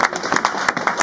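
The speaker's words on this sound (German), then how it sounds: "Genau, die haben einen Applaus verdient." A crowd applauds at the opening of the Munich Christmas market on Marienplatz, with dense, bursty clapping throughout a brief, fairly loud moment.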